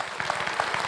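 Audience applause at a tech festival talk in Portland, a dense steady patter of many hands clapping at moderate loudness through the short span.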